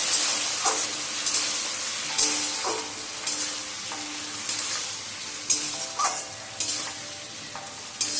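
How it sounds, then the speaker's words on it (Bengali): Spice paste, loosened with a splash of water, sizzles gently over a low flame for a papaya and potato curry, with a spoon stirring and scraping the pan in regular knocks. "এবার মশলাটাকে কষতে দিতে হবে। একদম লো ফ্লেমে রেখে মশলাটা 1 থেকে 2 মিনিট কষিয়ে নিতে হবে।"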